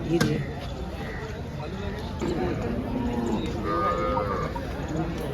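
Buffalo lowing amid a busy outdoor buffalo market in Dhule, a low moo drawn out over the crowd noise and chatter of people nearby.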